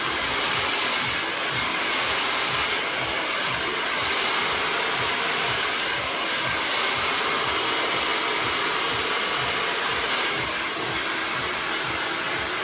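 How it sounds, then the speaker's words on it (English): Salon hair dryer running steadily during a blow dry, a continuous loud airy whoosh with soft swells as the airflow shifts, and no voices. "So picking up the dryer is 1, turning it on is 2, 3, then doing the blow dry."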